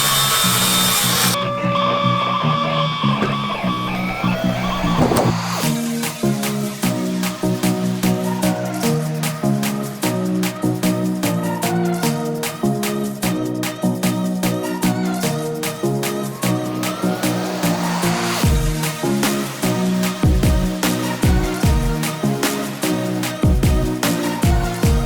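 A power tool cuts through a plywood sheet for a mini ramp with a loud, continuous whine and rattling buzz, close by, after a short quieter start, with brief drops near the end.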